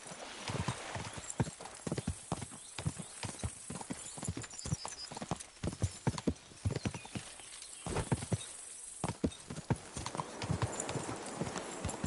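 A horse's hooves clip-clop steadily over ground in Kingdom Come Deliverance 2, close and continuous with a regular gait, joined briefly by a snort or whinny and ambient outdoor sound.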